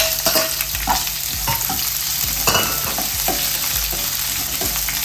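Two medium onions with crushed garlic sauté in a hot pan, a steady sizzle broken by repeated scraping strokes of a spatula stirring them, close and fairly loud, with no talking.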